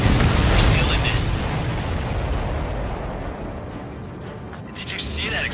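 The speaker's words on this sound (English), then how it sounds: "Did you see that explosion?" A deep, rumbling blast with a long roaring tail fills the scene in the video game Ace Combat 7, followed by sustained low rumble and noisy background action.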